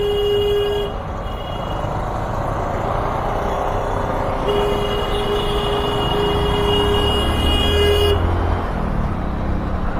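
A vehicle horn sounds in road traffic, first as a short toot and then as a long sustained blast, over a continuous engine and road roar.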